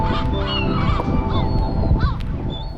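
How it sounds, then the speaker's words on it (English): Seagulls calling on a windy seafront, several loud overlapping honking cries and yelps repeating over a rough wind-like rumble. "what caught my attention was the seagulls with their youngsters"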